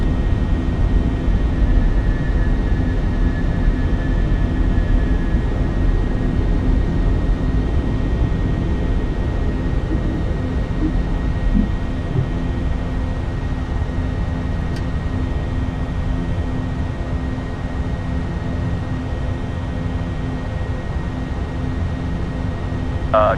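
A KLM airliner's jet engines roar steadily through its takeoff climb out of London, a constant loud broadband rumble that stays even for the whole stretch with no voices over it.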